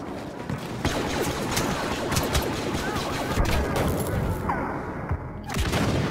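Dense gunfire rattles in Star Wars Battlefront, loud rapid shots and bursts crackling continuously with sharp impacts, close and busy throughout.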